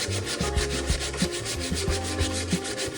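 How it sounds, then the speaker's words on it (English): Sandpaper rubs steadily against a wooden dowel spinning on a lathe fitted with a DIY copy jig, a continuous close gritty hiss with faint rhythmic pulses as the paper passes, no voices. "you can easily sand it against or with grain"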